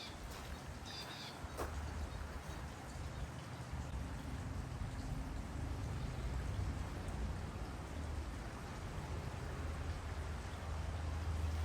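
Steady rain falls on a garden, a dense, even hiss of drops that continues without a break, with no talking.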